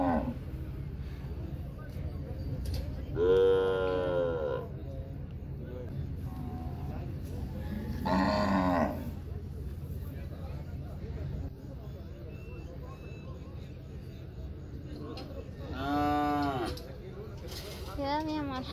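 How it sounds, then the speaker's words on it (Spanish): Cattle moo repeatedly at a Sunday livestock fair in Santa María Joyabaj, Quiché, three long bellowing calls spaced apart over steady crowd murmur while people talk nearby. "Vamos a ver cómo suben la vaca en el carro."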